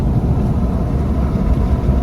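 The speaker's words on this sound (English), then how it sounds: "So there'll be a little bit of wind noise probably." Steady roaring wind rushes through the open window of a moving Jeep Gladiator, a constant loud broadband buffeting with road rumble and no pauses.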